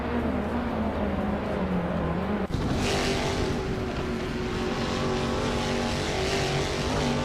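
A 2011 Volkswagen Scirocco R-Cup race car engine in a racing video game hums steadily and loudly, with a sharp gearshift-like break midway before the engine drones on at a slightly higher pitch.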